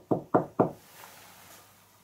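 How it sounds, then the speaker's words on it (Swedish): Three quick, evenly spaced knocks on a wall, close and fairly loud, followed by quiet room tone. "Någon ska knacka efter mig."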